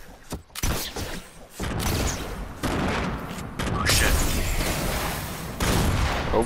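Gunfire in Fortnite: repeated bursts of shots and booming impacts that come in loud, dense stretches separated by brief gaps, with players talking over the action.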